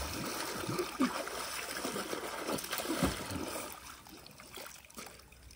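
An iPhone is plunged into water, producing a run of sloshing, splashing and trickling water sounds. They are fairly close and ease off toward the end.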